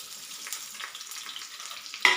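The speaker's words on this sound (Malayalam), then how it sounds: "ഇപ്പോൾ എണ്ണ ചൂടായിട്ടുണ്ട്. ഇനി ആദ്യം വറുത്തത് ഇതിലോട്ട് ഇട്ട് കൊടുക്കാം." Steady sizzle of potato fries frying over a high flame fills the whole clip with a soft crackle, and a sharper burst of hiss near the end as more potatoes drop into hot oil.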